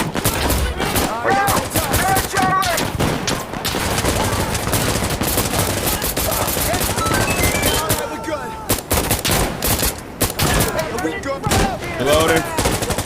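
Rapid rifle and automatic gunfire rattles in dense bursts during a firefight in the Insurgency Sandstorm video game, loud and almost continuous, with players talking over it.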